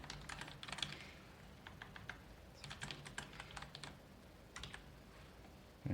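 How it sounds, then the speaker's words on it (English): Fingers type on a computer keyboard in quick bursts of close, crisp key clicks separated by short pauses, with a faint low hum underneath. "Go ahead and type something in."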